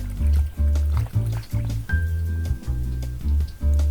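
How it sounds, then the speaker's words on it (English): Cold water pours and sloshes into a cooking pot that holds catfish and salmon, splashing loudly and unevenly in short gurgling bursts close by. "Added some cold water"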